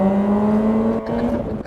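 Volkswagen Lupo GTI hot hatch engine held at high revs near its slightly raised limiter of about 7,200 rpm, a loud steady scream that dips briefly and settles back, with no talking.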